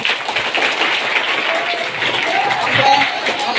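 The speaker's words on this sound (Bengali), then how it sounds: "আমরা একটা করতালি দিব।" Audience applause at a gathering in Bangladesh honouring a union chairman, steady close clapping from a sizeable crowd sustained throughout without a break.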